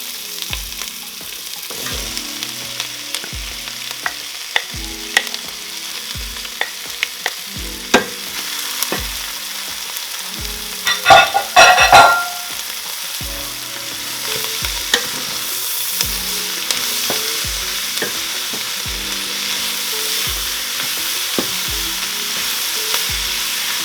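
Onions with peppers added, frying in a pot for spicy chicken fajita soup, give a continuous close sizzle broken by regular scraping stirs and one brief louder clatter midway.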